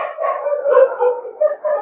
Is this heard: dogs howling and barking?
yes